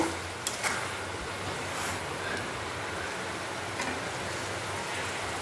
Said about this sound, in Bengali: আমাদের এখানে ভীষণ জোরে বৃষ্টি পড়ছে।